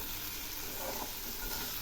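Kharkol leaves frying in plenty of oil in a pan, a steady soft sizzle and hiss running throughout without a break, heard close but fairly quiet.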